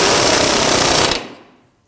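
A pneumatic impact wrench rattles loudly and continuously on the Audi S4 rear suspension nuts and bolts, then cuts off sharply and winds down to silence.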